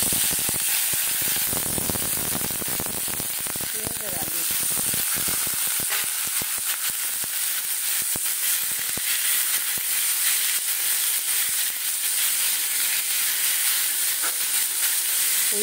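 Onions fry in butter with a little refined oil, a dense, steady sizzle and hiss close up, broken by many crisp crackles and pops, with no one talking.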